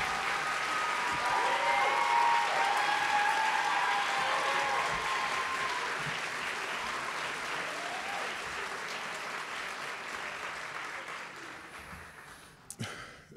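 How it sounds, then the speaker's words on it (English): A Journalism Day audience gives long, sustained applause that slowly fades over about twelve seconds, with a few sharp knocks near the end. "You can applaud now."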